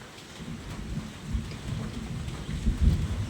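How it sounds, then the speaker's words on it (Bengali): Heavy rain drums on a tin roof in a continuous close roar, with low rumbling swells that sound like thunder. "বাইরে বৃষ্টি হচ্ছে টিনের শব্দ টিনের উপরে পানি পড়ছে"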